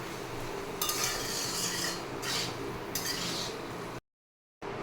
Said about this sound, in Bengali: সবগুলো ভালো করে মিশিয়ে নেব, ভালো করে মিশিয়ে নেব সবগুলো।